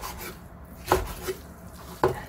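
Knife chopping blanched seaweed stems on a cutting board, with two distinct crisp chops about a second apart and a softer cut between them, close and clear with no talk.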